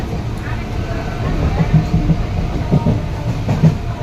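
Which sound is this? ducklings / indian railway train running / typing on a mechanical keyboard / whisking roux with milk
indian railway train running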